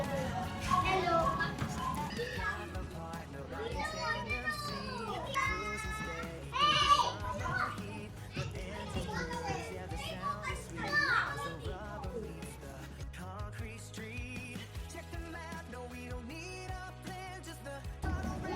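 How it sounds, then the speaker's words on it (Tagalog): Many children play noisily nearby, their high shouts and chatter overlapping continuously and loudly, with a few sharper cries standing out. "Daming bata dito sa amin, maingay."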